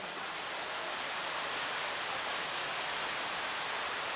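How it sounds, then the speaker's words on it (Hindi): Steady rushing of running water, a broad even hiss that holds without a break from start to finish in the background, with no voices over it. "कि आवाज आ रही पानी की?"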